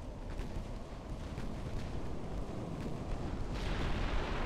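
Heavy booming naval gunfire from warships in the naval combat game Ultimate Admiral: Dreadnoughts rumbles continuously in a dense, loud wash of blasts, with no clear pauses between shots.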